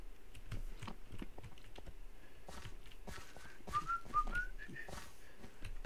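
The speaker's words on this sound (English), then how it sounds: "Don't mind me whistling" A person whistles a soft, wandering tune at low volume, with the clatter of a computer keyboard and mouse clicks going on steadily underneath.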